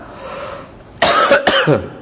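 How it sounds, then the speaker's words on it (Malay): Two or three harsh coughs, close and loud, following a moment of quiet room noise. "Batuk tak hilang lagi."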